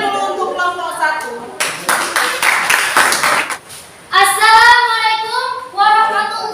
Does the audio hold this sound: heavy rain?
no